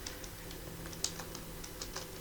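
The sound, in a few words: keyboard typing a shortcut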